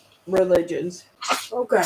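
A person sneezes once, sharp and close, in the middle of casual conversation, with talking just before and after.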